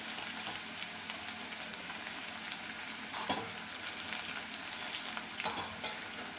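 Browned onion with turmeric and coriander sizzles gently in hot oil, a quiet steady crackle broken by a couple of louder scraping stirs of the spoon through the pan.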